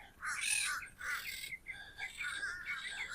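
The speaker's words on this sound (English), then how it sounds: "The seagulls are always looking for a good time." Seagulls calling overhead at a small beach in Cape Coral, with several harsh, squawking cries at moderate distance in quick succession, heard alone over faint background.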